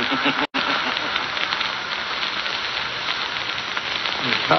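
Live steam hissing loudly and steadily from a boiler under terrific pressure, a radio drama sound effect; a continuous broadband rush that never lets up, with one brief dropout near the start.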